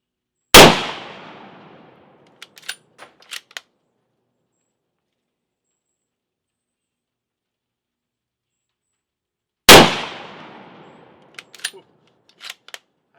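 Two loud single rifle shots from a Madsen M47 bolt-action rifle, each with a sharp crack and a long decaying tail, followed by a few faint metallic clicks and clanks of handling; the shots fall roughly nine seconds apart.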